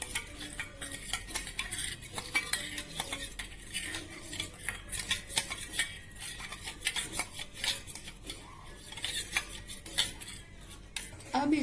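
A spoon whisks cocoa powder into a cup of milk in a bowl, producing quick, continuous clinks and scrapes against the sides, close and fairly soft with no talk.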